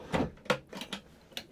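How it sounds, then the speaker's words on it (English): A drawer in the galley of an adventure camper van is pulled open, giving a few short wooden clunks and slides at close range, with several separate knocks spread across the moment and no voices. "So here's drawer number one."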